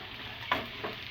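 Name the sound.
fried chicken added to sizzling capsicum and onion in pan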